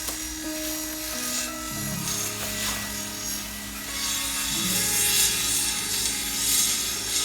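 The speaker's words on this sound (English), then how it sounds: "an air compressor for your tyres" A small portable tyre air compressor that plugs into a car's cigarette lighter runs with a steady buzzing drone, its pitch stepping lower a few times as it works, loud and close with no talking.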